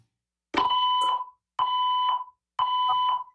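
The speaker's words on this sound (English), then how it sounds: "An alarm has been activated." A building alarm sounds in three long, loud electronic tones, each about half a second long, separated by brief silences, with no talking.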